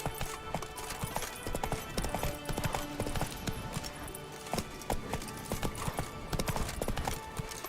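Hooves of Roach, the horse in The Witcher 3 video game, clip-clop in a quick, steady running rhythm at close range. They carry through busy game sound and music for the whole stretch, with a brief whinny-like note.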